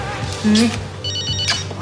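A telephone rings indoors in a French drama scene, a short electronic ring under and between spoken voices.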